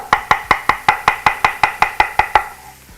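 Knife chopping mushrooms on a cutting board in a kitchen, about a dozen crisp evenly spaced thuds in a steady quick rhythm, close and clear with no talk.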